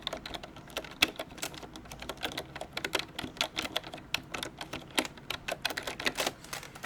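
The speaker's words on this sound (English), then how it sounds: "It's the sound of a non-mechanical keyboard typing." Rapid, irregular keystrokes on a non-mechanical membrane keyboard, soft close clicks and taps in uneven bursts with no voices over them.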